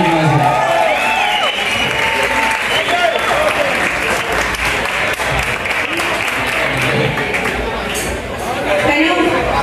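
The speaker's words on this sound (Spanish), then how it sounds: "Un aplauso por favor a ellos." Crowd applause at a bike week gathering in Pereira, loud sustained clapping with cheering and overlapping chatter and speech throughout.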